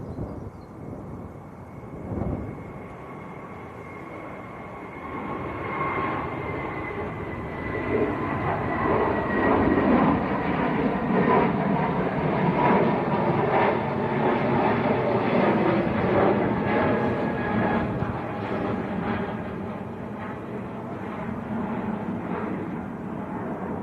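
A Turkish Airlines Airbus A321neo departs Manchester Airport for Istanbul on a windy day, its broad engine roar building after a few seconds and holding loud and steady, with a rising whine threaded through it.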